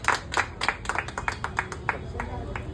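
Crowd clapping in rapid uneven bursts at the opening of a Royal Biryani shop in Baruipur, sustained for a few seconds with voices mixed in.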